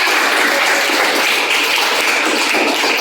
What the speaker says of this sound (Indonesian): Tepuk tangan untuk kelompok Oven Tenaga Surya.